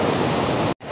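Athirappilly waterfall in a Kerala rainforest pours in a loud, steady broadband roar, briefly dropping out near the end before resuming.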